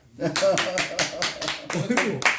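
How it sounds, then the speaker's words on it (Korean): A small group claps at a gathering of a society's members, a burst of close, rhythmic handclaps in roughly even beats with speech mixed in. "박수"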